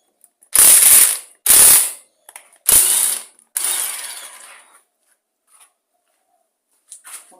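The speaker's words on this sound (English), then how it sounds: "So we'll undo the bolt on here." A wrench ratchets on a bolt being undone on an engine during carburetor removal: four loud, close bursts of clicking with short pauses between, followed by a few faint ticks.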